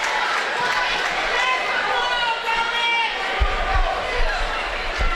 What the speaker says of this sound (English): Crowd's getting a little testy, Sam.